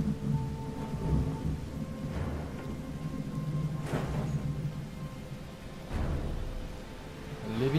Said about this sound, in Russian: Ливень, конечно, нормально хлещет.